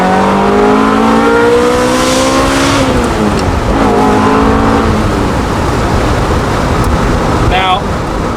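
A Ferrari F355 engine revs hard, loud and close, its pitch climbing through the gears with a dip at each shift, then the note settles into a rough roar as the car accelerates away, under faint wind noise.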